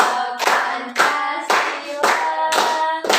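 A small group claps in unison along to a national song during a group guidance session, sharp, close claps falling roughly every half second while a voice sings over the steady beat.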